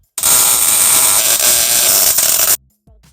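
Welding crackles loudly and steadily on nerf bars being joined to a crosskart frame, a close continuous buzzing sizzle lasting over two seconds before stopping abruptly, followed by a brief faint clunk.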